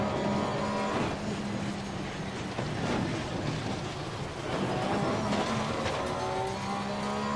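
A race car engine driving on a track in the racing video game Assetto Corsa Competizione, a car type new to the driver with a different engine from the Audi; steady droning engine tone with shifting pitch and gear changes.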